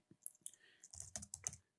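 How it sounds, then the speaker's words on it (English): Close computer keyboard typing while a medication name is entered into an online drug list: a few scattered light key clicks, then a quicker burst of crisp taps, all alone with no talk. "You can just start typing a medication"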